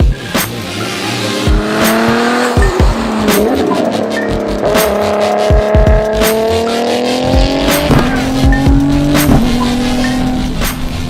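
Tuned performance car driven hard, engine loud and close with rising and falling revs through gear changes, sharp shift pops and brief tire noise, continuous throughout.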